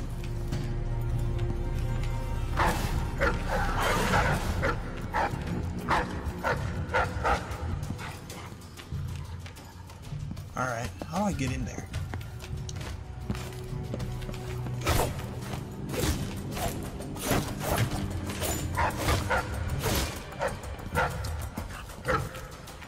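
A dog barks and yips in Dishonored: Death of the Outsider, with repeated short bursts over a busy game soundtrack and effects, and a player briefly speaking.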